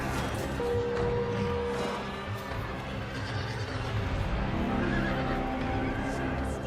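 Horses neighing in a cavalry charge, several drawn-out whinnies rising over a dense rumble of hooves and battle noise, loud and close.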